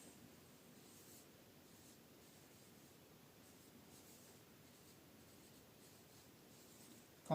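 Marker or chalk writing out a chemistry definition on a classroom board, a steady faint scratching that runs continuously and alone with no voices.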